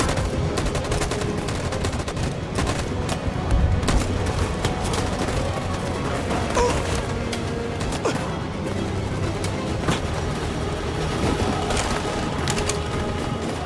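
Sustained, rapid gunfire fills a firefight in the video game Detroit: Become Human, with dense overlapping shots and bursts that run loud and unbroken throughout, mixed with mechanical clatter and crashes.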